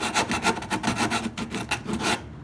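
Hand sanding with 120 grit sandpaper on a 1953 Alcort Sunfish sailboat repair, a close, steady run of rhythmic back-and-forth rasping strokes, roughly a dozen in quick succession, with no talk.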